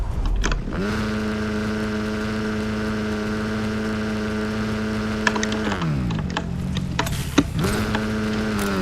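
A motorcycle engine in Fortnite revs with a steady droning pitch that holds, then dips and climbs again twice, loud and close with a few sharp clicks over it.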